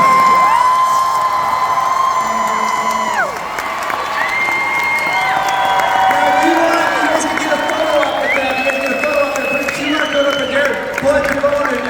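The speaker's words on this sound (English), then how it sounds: "Please give him a huge round of applause, everybody." Loud convention panel audience clapping and cheering with whoops and many overlapping voices, a steady roar lasting throughout.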